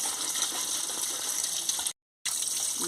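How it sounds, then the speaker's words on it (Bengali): Steady broadband rush of tap water running while ground prawns are washed clean in a sink, continuous and close, with a brief cut to silence near the end. "এবারে ধুয়ে নিচ্ছি পরিষ্কার করে ধুয়ে নিচ্ছি"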